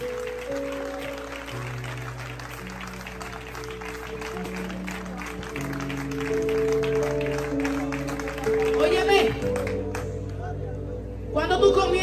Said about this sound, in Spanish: ¿Alguien puede aplaudir fuerte hoy aquí?